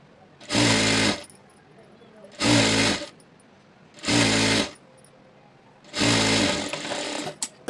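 A sewing machine stitches the lining of a blouse in four separate bursts, each about a second long, loud and close, with quiet pauses between runs.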